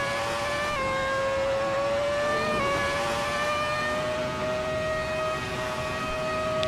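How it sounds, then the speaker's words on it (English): Ferrari F2004 Formula One engine in a racing game, a high-pitched shrieking wail climbing steadily through short gears, with brief throttle-cut dips and crackles at each upshift, loud and close with no talk. "a little bit more of a distinct crackle on the upshifts, a little bit of a wobble there as the throttle's cut and then the gearbox slams up into the next gear"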